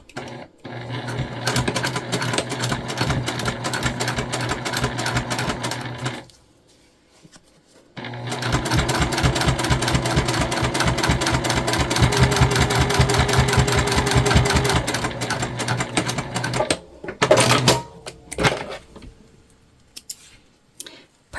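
A sewing machine runs in long steady bursts while top stitching a cotton key fob wallet, its needle clattering in rapid rhythm, pausing briefly around the middle and near the end, close and loud.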